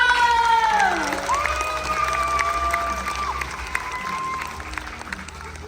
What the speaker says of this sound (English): Big round of applause for the Whoosh Bottle!